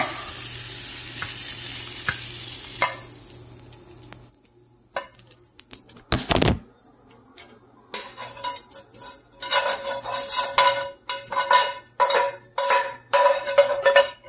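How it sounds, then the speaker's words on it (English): Chicken hisses and crackles in a hot pan at first, then fades, followed by bursts of scraping and clinking as utensils stir against the pan. "Sizzle, sizzle."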